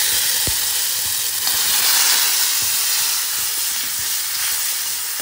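Onion paste with curry leaves frying in a pan on lowered gas heat, giving a steady, loud broadband hiss throughout with a few faint clicks and no voices.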